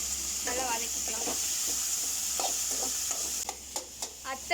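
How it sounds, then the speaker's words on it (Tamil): Onion, tomato and coconut pieces fry in a pan for fish curry, giving a steady close sizzle with a few stirring scrapes and clinks toward the end. "இது நல்லா ஃப்ரை ஆகட்டும், நல்லா வதக்கிக்கலாம்."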